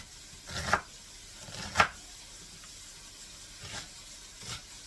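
Onions are chopped for wet burritos, with a few separate knife strikes on a board spaced about a second apart, fairly quiet and close, with no talking.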